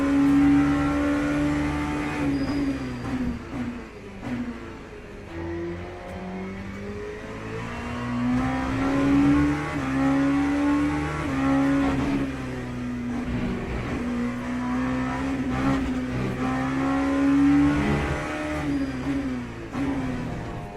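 An LMP2 prototype race car screams around Silverstone in Le Mans Ultimate, its engine note climbing and dropping steadily through upshifts and braking downshifts, loud and continuous.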